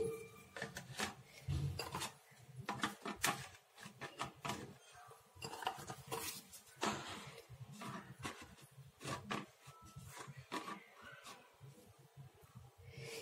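Nippattu crackers being set one by one onto a plate, a series of light crisp clicks, taps and scrapes in an irregular rhythm, close and fairly quiet.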